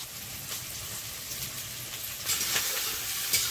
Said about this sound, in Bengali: মাছটা লাল লাল ভাজা হয়ে গেছে